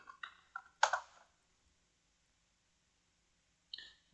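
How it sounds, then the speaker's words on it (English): Someone types on a computer keyboard, a handful of separate clicks in quick succession, one louder press, then a pause and one more click, close and quiet against near silence. "Now you can type in something like Spring Tool"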